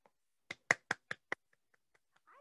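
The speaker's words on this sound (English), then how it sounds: "I can hear when I clap my hands." Hands clap sharply five times in an even rhythm, close and clear, followed by several much softer, fainter claps.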